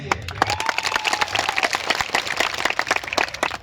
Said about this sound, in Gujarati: એને આપણે આજે તાળીઓથી પહેલા વધાવી લઈએ